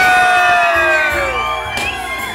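A wedding crowd lets out a loud, sustained collective squeal and shout on cue, many high voices blending into a rising and falling chorus that gradually fades over a couple of seconds.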